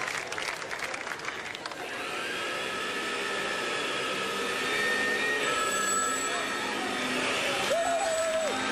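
A telephone rings on a theatre stage during a live Flintstones-themed telethon show, its intermittent tones cutting through a noisy hall full of audience murmur and stage sound.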